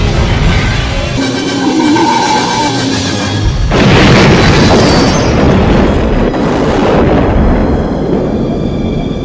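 An explosion in a film scene from DeepStar Six, set off by gas lit with a flare gun, swells into a loud, dense rumbling roar partway through over constant heavy background noise.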